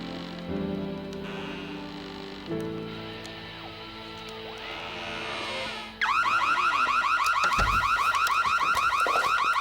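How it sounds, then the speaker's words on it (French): A homemade prototype alarm sounds with several stepped electronic tones. Partway through it switches to a loud, rapidly warbling siren, like a car alarm, that continues to the end. "Cette alarme, imbécile"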